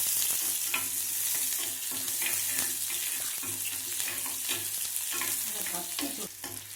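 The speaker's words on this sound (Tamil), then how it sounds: "நம்ம வதக்கிக்கலாம் நல்லா." Halved small onions with cinnamon sauté in hot oil in a pan, a steady close sizzle with frequent spoon-stirring scrapes running throughout.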